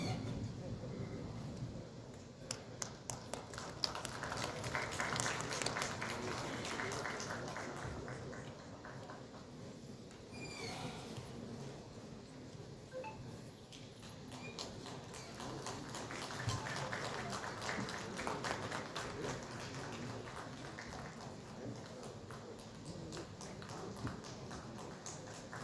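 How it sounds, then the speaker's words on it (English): Applause from dignitaries on stage at the Odisha Tex 2025 textile event in Bhubaneswar, a sustained dense patter of clapping in a large hall that runs steadily for the whole stretch, with voices murmuring faintly underneath. "I see a lot of applause from our dignitaries on stage."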